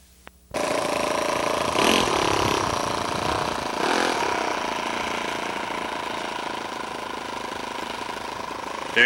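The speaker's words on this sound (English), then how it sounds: "Very realistic sounding model airplane engine." A small OS-44 model airplane engine on a Phaeton biplane buzzes loudly and steadily after a sudden start, its pitch rising briefly a couple of times.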